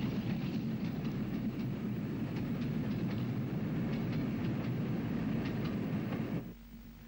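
Steam-hauled two-coach local train on an Ulster railway, the 2 p.m. from Lisburn, passing with a steady rumble and rhythmic wheel clatter that fades abruptly near the end.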